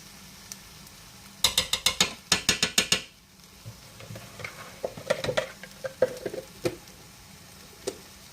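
Minced garlic being stirred into a pot of carne guisada stew: a quick burst of scraping, clattering stirs, then scattered softer spoon knocks and sizzling taps, close and alone with no talk.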